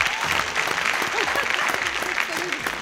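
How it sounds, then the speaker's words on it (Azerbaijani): Audience applause at a puzzle quiz game show, a dense, steady burst of clapping from a studio crowd, with a voice briefly heard over it. "alqışlar"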